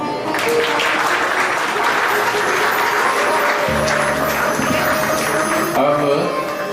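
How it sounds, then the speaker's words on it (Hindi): A crowd claps steadily and loudly throughout at a parent-worship ceremony at Gujarati College in Indore, with a low hum of voices and a brief tone underneath. "ताली बजाएं।"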